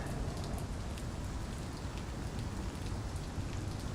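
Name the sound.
rain falling in the video game Vampyr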